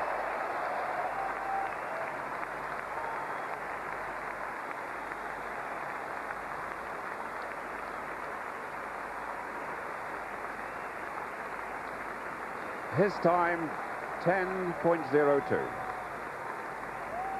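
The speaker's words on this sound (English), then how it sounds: "leading the applause, ringing round the arena" Sustained stadium crowd applause fills an Olympic arena during the 1992 Olympic men's 100m medal ceremony, broad and steady throughout, with a commentator speaking over it near the end.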